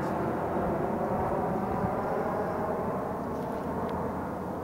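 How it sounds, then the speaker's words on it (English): Steady broadband roar of airplanes passing overhead near Squantum Point on the Neponset River, a continuous low engine rumble that fills the whole stretch at even loudness with no talk. "I wanted to note the noise pollution as well from the airplanes. You can hear it overhead."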